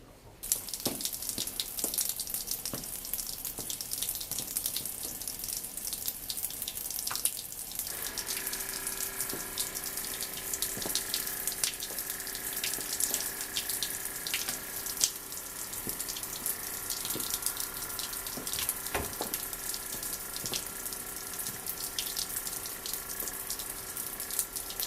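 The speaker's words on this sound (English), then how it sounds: "I'm going to turn on the water." Water runs from a tap into a sink, a steady close rushing hiss lasting the whole stretch, with its pitch shifting slightly partway through as the flow settles.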